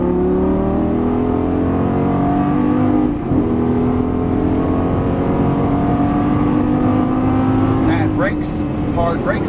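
A Lamborghini Gallardo LP550-2 engine pulls hard on a track, its loud sustained tone rising steadily in pitch across the run, with a brief dip in the middle and a shift or lift near the end.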